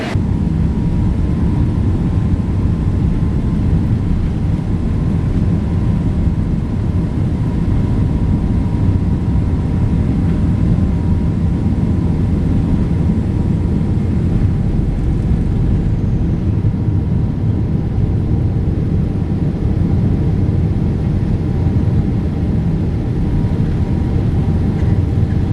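Cabin noise aboard a United Boeing 777-200 airliner climbing after takeoff: a loud, steady broadband roar of engines and airflow, unbroken throughout with no talk.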